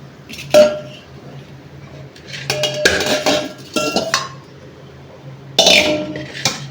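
Clattering and clinking of a bowl and utensils as freshly washed, cut cabbage is tipped into a large bowl while making cabbage pakoda, several sharp knocks spread over a few seconds, close by, with no talking.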